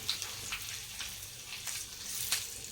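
Curry leaves crackling in hot oil tempered with cinnamon and asafoetida after the flame is switched off, a faint steady sizzle with a few brief pops.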